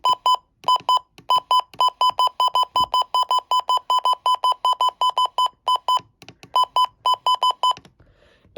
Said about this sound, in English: So, here's the invalid button beeps.